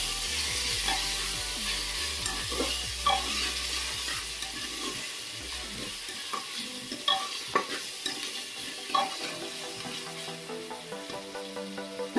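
Mutton curry being stirred in the pot after coriander goes in: soft scraping and wet clicks of the spoon, fairly quiet and close, over a low bubbling simmer, with no voices.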